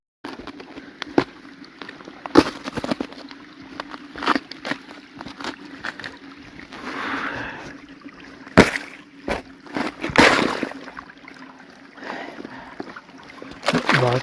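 Boots wade through icy winter river water by a frozen log on the Nemunas, giving irregular splashing, sloshing and crunching noises with sharp bursts over a steady rushing flow, close and fairly loud.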